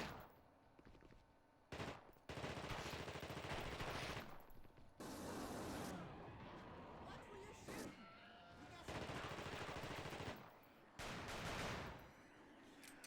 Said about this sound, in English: Pistol works pretty well.